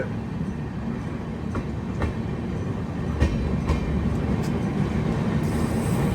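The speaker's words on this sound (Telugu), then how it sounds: "ఓహో, జీలం ఎక్స్ప్రెస్." Steady rumble and rolling wheel noise from the Jhelum Express passing near Pune yard, with sparse clicks over the wheels and a continuous, fairly loud roar.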